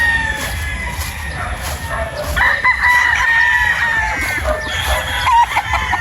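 A Boston Roundhead straight-comb rooster crows loudly and close, with drawn-out calls and bursts of clucking from other fowl around it on a game farm.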